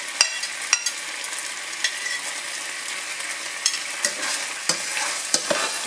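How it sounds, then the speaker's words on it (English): Onions sauté in oil in a pan, a steady bright sizzle with occasional scrapes and clicks of a stirring utensil, close and continuous. "I will saute the remaining onion and mushrooms. Let's start with the onions."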